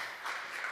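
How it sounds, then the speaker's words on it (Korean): A church congregation applauds during a Sunday worship service, a steady wash of many hands clapping together throughout this brief moment with no voices over it. "박수 한번 보내주시기 바랍니다"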